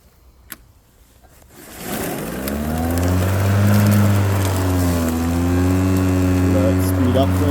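A 40-volt battery lawnmower picking up leaves starts after a brief quiet moment with a few knocks. It rises into a steady, close electric motor whine that holds with slight pitch wavers.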